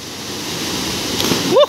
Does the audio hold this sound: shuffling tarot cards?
no